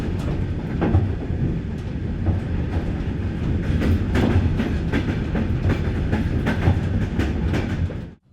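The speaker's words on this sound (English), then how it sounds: "the noise near the couplings is way louder than in the saloon." Loud, constant rumble and rattle of a moving loco-hauled train heard close up near the carriage couplings, with rhythmic clicks of wheels over rail joints, fading abruptly at the end.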